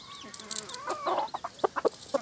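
A white hen that has just hatched her chicks clucks softly in a quick series of short, uneven calls against a quiet background.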